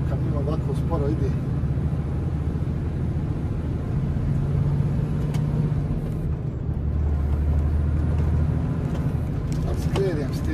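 A heavy truck loaded with 20 tons of stone creeps along slowly, its low, steady engine rumble droning close by without a break for the whole stretch.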